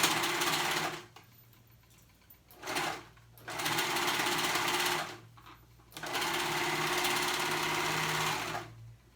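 Sewing machine stitching a smallest-size tunic, running in three bursts of steady whirring separated by short pauses, close and clear with no talking.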